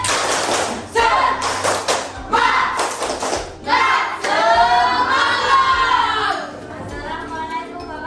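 A classroom group claps together in bursts of rhythmic patterns, sharp sets of claps broken by short pauses, mixed with loud chanted and shouted voices throughout.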